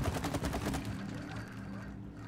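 Rapid gunfire from the video game It Takes Two, a quick burst of repeated shots up front that gives way to a fading rumble, fairly quiet overall.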